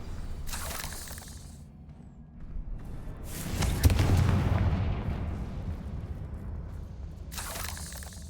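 Confringo fire-blasting spell in Hogwarts Legacy, a sharp crack followed by a heavy rumbling explosion that swells and slowly decays, with a second sharp burst near the end, no voices over it.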